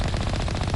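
Rapid automatic gunfire from the video game Mass Effect fills the whole moment, dense and loud with a fast rattling rhythm.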